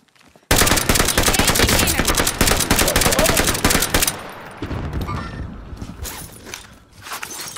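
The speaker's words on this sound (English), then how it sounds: "They're shooting at me!" Call of Duty: Modern Warfare gameplay erupts in loud, sustained automatic gunfire, a dense rapid burst lasting several seconds, then fades to quieter shots and movement noises.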